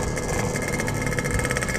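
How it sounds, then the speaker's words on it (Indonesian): A vehicle with an aftermarket exhaust idles in traffic, giving a steady, close, loud rumble with a faint pulsing throb and no other sounds. "Tuh enak banget suaranya. Knalpotnya Bang Birin."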